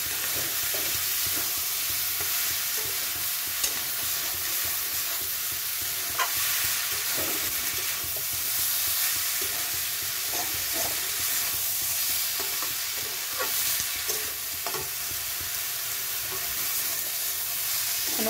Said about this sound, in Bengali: ওলের ডাঁটাটা দিয়ে নাড়িয়ে চাড়িয়ে একটু